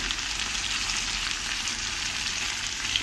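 Chicken pieces frying for adobo in a hot pan give a steady, close, even sizzle with no pauses and no voices.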